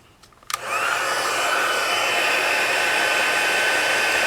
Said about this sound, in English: So now we're going to heat set this again.